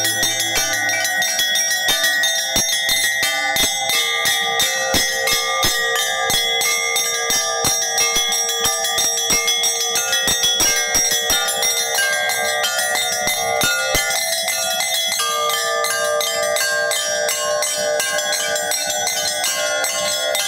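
Church bells ring from a small bell tower at a village church in Kazachiy Mys, a dense, rapid pattern of bright overlapping strikes sustained loud and close for the whole stretch.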